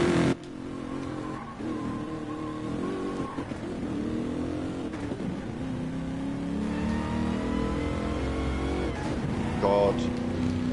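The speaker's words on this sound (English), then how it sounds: "it makes racing transmission noises without having one" Racing car engine in Gran Turismo Sport, revving and accelerating with whining transmission-like gear noise and some tire squeal, loud and continuous across the stretch.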